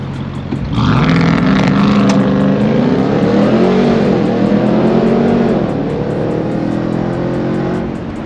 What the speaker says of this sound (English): Ram TRX launch control.